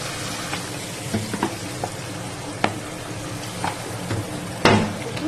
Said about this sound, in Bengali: দেখো তেলটা ফুটে উঠেছে